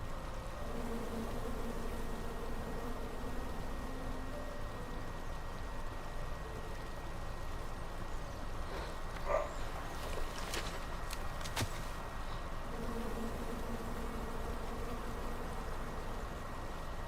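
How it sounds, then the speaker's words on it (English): Bees in the King's Quest video game give off a steady, droning buzz that holds at an even level for the whole stretch, with a few brief brighter flickers near the middle. "Come at me, bees!"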